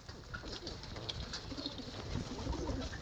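Madrasi pigeons coo repeatedly in low, throaty bursts, several birds overlapping steadily throughout, close by, with a faint background hum.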